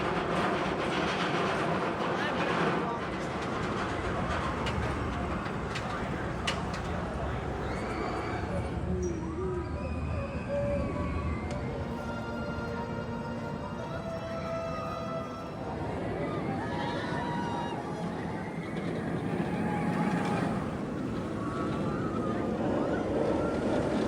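A ride on the Raging Bull roller coaster at Six Flags Great America on a rainy night: a continuous loud rumbling, clattering track roar with riders' yells and cries rising over it midway.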